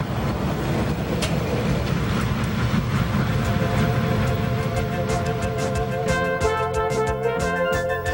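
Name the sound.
freight train pulling empty cars through a mine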